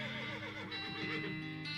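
Horse in the video game West of Loathing gives a faint, drawn-out neigh, a single whinny heard alone with no talk.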